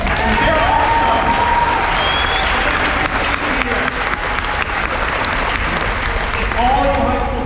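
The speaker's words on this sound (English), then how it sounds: "I want to hear a round of applause for those JSA students again" Audience at an education forum in Yuma applauding JSA students, steady sustained clapping filling the room with some voices scattered throughout.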